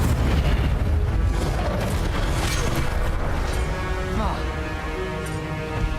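Incendio fire spell cast repeatedly in Hogwarts Legacy, heard as dense, booming bursts of flame over a steady roar of combat effects, loud and close throughout.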